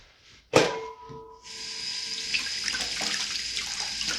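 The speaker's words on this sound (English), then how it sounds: "Just give me a sec while I wash my hands here." Tap water runs steadily into a sink for hands being washed in a home kitchen during Filipino beef stew prep, starting with a brief knock and then a continuous hissing stream close by.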